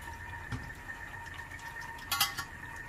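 A small pan is handled with clinks and knocks, then a brief louder splash and rattle near the end as water goes in, all close and fairly quiet.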